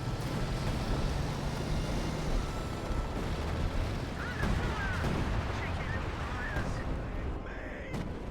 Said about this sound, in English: Artillery strike summoned forth here with 105mm howitzer barrage.